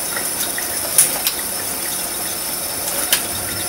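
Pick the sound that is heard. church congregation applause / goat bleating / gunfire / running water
running water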